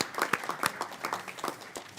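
Scattered applause from a committee hearing audience, a modest spread of claps with uneven rhythm, moderately loud and steady for a couple of seconds.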